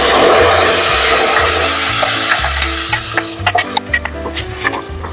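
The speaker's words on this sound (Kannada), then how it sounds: "ಚೆನ್ನಾಗಿ ಎಣ್ಣೆನಲ್ಲಿ ಫ್ರೈ ಆಗಬೇಕು." Cumin and ground masala paste frying in hot oil: a loud, dense sizzle that eases off midway, followed by scraping stirs and light clinks of a spoon against the pan.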